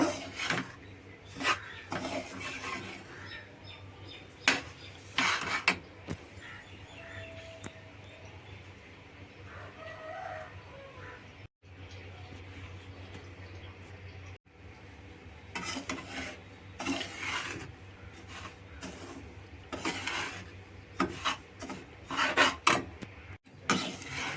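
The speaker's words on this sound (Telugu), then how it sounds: "రవ్వ వేగిపోయింది కదండి" Semolina (rava) roasting slowly over a low flame in a pan, stirred with repeated dry raspy scraping strokes in irregular bursts, quiet and close, with brief pauses and no talking.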